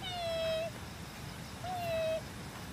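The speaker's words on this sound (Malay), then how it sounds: "Kucing ni ngada." A cat meows twice near a river at a resort in Selangor, two drawn-out calls about a second apart, clear and close over a steady outdoor hiss.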